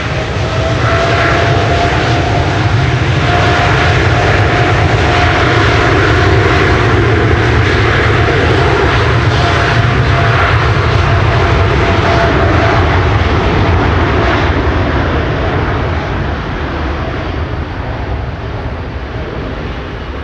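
A KLM Boeing 787-9 airliner at Amsterdam Schiphol Airport on a stormy day, its jet engines roaring in a loud, continuous broadband rush that holds steady for about fifteen seconds and then eases slightly.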